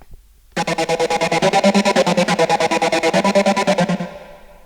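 A pulsing, wobbling dubstep synth bass line made in Reason's Thor synthesizer with rapid rhythmic throbs, loud and alone, stopping abruptly near the end with a short fading tail.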